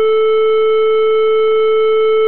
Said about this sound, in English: back to a triangle wave